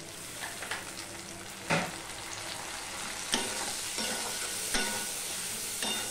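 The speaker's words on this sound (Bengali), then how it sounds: "এবার এগুলো আমি ভালো করে একটুখানি মশলাটাকে মিশিয়ে নিয়ে কষিয়ে নেব।" Spice masala being stirred and sautéed in a pan for a hilsa fish curry, a steady sizzle with periodic scraping strokes of the spoon, close and moderately quiet, no voices.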